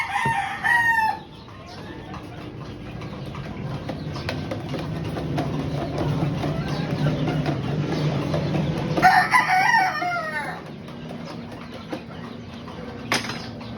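Chickens and chicks at a poultry farm: a rooster crows at the start and again later, with hens clucking and chicks peeping against a steady background hum.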